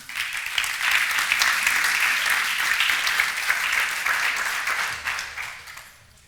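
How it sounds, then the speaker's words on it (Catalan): Audience applause at a housing conference as the college president comes up to speak: brisk, dense clapping that holds evenly for several seconds, then tapers off. "Un aplaudiment."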